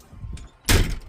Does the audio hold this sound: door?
yes